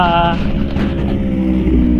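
A boat engine running unevenly, its loud close drone holding throughout with a tonal whine early on, buffeted by wind noise.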